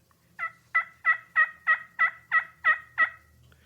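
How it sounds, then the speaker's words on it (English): A slate turkey call sounds a yelp: nine evenly spaced, raspy two-tone notes in a steady rhythm, close and fairly loud, with no voices around them. "this is done on a slate call. The most common sound that hunter's going to make is called a yelp"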